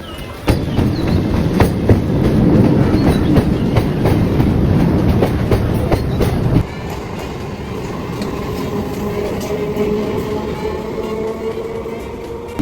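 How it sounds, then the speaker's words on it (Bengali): A train pulls into Thakurnagar station, heard from the station overbridge with a loud, steady rumble and rhythmic clickety-clack of wheels on rails that softens partway through. "আর যে ট্রেন ঢুকছে ওই দিক থেকে"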